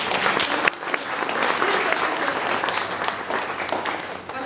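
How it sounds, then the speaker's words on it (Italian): Steady applause from a crowd at an art exhibition evening in Rome, dense clapping that holds at a constant level throughout without any talking. "Qua in questo spazio io voglio fare un applauso"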